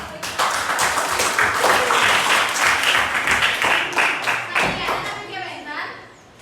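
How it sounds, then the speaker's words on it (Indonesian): A classroom group applauds during a student teaching exam session, clapping steadily and fairly loudly for several seconds before tapering off near the end, with a few children's voices mixed into the clapping. "Terus Ijen, tepuk tangan."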